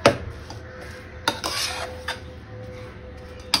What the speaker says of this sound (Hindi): गुड़, तिल, दरिया और मूंगफली सब एक साथ मिक्स होना चाहिए